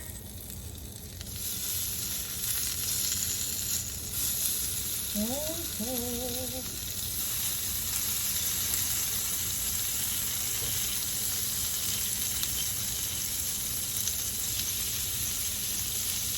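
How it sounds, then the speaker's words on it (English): Steady sizzling and crackling of salmon skewers cooking on a hot grill, continuous and fairly close, with a brief squeaky scrape partway through. "Hear that little sizzle there?"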